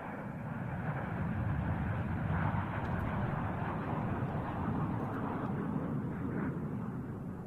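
Military jet formation rumbling past at the RIAT airshow during arrivals practice, a broad, steady distant roar that swells and holds with no distinct peaks, no speech.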